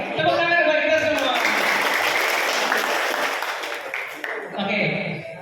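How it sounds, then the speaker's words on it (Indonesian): An audience in a village hall claps in a burst of applause that swells quickly, holds dense and close, then tapers off, with a presenter's voice heard faintly over the start. "Tepuk tangan buat kita semua."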